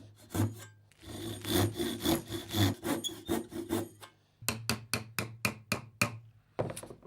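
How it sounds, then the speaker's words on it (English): A tenon saw cuts through a wooden dowel with close, rhythmic back-and-forth strokes. A steady run of rasping is followed by a brief pause, then a quicker burst of strokes as the cut finishes. "we'll just follow that with our tenon saw."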